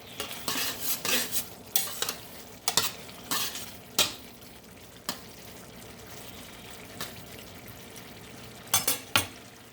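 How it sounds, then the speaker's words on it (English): Seasoned meat cooking in a pan with lemon pepper, steak seasoning and onion powder, giving a steady low sizzle broken by irregular scrapes and clinks of a utensil stirring against the pan, close and moderately loud. "I'm just gonna let that simmer"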